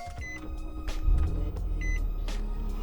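A 2019 Nissan Maxima Platinum V6 starts up with a push button: a brief electric crank and whir, then the engine catches with a deep rumble about a second in and settles into a steady, close idle.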